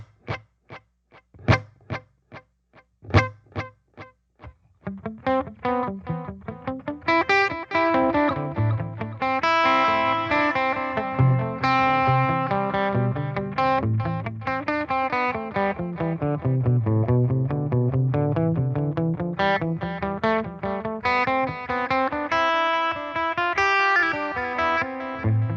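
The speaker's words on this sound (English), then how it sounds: "So now we're gonna just get the clean tone with the delay." A clean electric guitar tone with a delay effect, a few plucked notes first, then a continuous flowing phrase whose notes repeat and trail off in echoes, alone with no talking.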